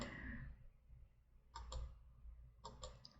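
Computer mouse clicks while a Sim is being created in a game, two short pairs of crisp clicks around the middle and end, fairly quiet against a low background hum.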